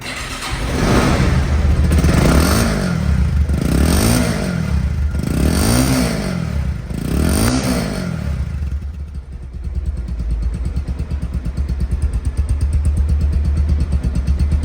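A 2023 Bajaj Pulsar motorcycle in showroom condition is revved close up: four loud, rising throttle blips, then it settles into a steady, throbbing idle.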